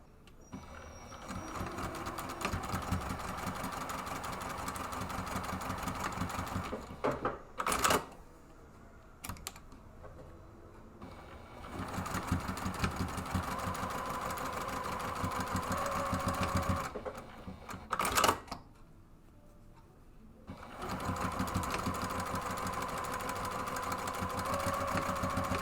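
A sewing machine stitches two rows down the short edge of a purse gusset, with rapid close whirring runs broken by short pauses and brief clicks between passes.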